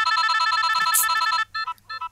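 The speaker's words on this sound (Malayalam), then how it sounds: "രാത്രി മുഴുവൻ ബെല്ലടിച്ചോണ്ടിരിക്കുന്നു, ഒന്ന് ഫോൺ എടുക്കടാ" A telephone rings at night with a bright electronic ringtone that repeats steadily, then breaks into short separate pulses, loud and near with nothing else over it.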